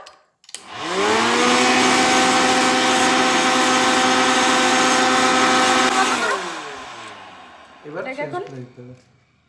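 An instant popcorn maker machine roars with a loud, steady whirring hum for several seconds, then winds down and cuts off, followed by a short burst of speech.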